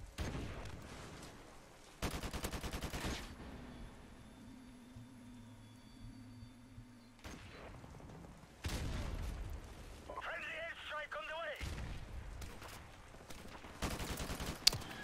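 Bursts of rapid automatic turret fire in Modern Warfare Remastered, several loud sustained volleys separated by quieter game ambience and a low mechanical hum, with a brief electronic warble in between.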